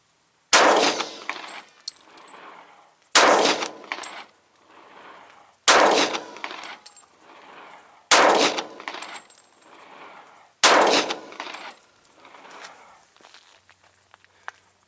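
Five loud pistol shots from a Smith & Wesson M&P 45 M2.0 firing .45 ball ammunition through a chronograph at an outdoor range, evenly spaced about two and a half seconds apart, each sharp crack trailing into a brief echo.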